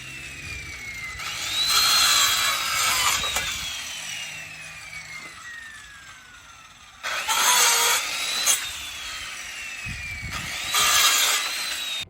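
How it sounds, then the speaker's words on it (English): A circular saw cuts wooden pallet planks roughly in half in three loud bursts of high whining, each rising and then dropping as the blade passes through, with quieter pauses between the cuts. "after you butch the wood with the circular saw"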